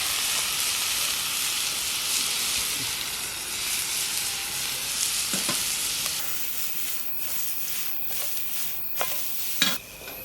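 Meat sizzling on a direct-fire grill at a forest campsite, a steady close frying hiss throughout with occasional soft clicks and taps.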